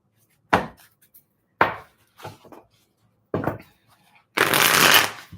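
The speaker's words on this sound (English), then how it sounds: "Let's just see what the cards come up for you, Ruby." Tarot cards shuffled by hand in a few quick, close riffling bursts separated by short pauses, ending with a longer, louder continuous shuffle; no voices.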